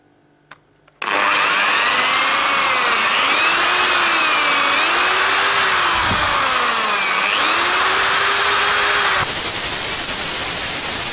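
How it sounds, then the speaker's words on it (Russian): An electric drill bores holes into the edge of an old round wooden dining table, a loud steady whine starting abruptly and running continuously with slight pitch wavers as the bit bites and eases. "я сейчас здесь насверлю отверстие."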